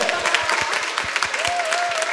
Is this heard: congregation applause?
yes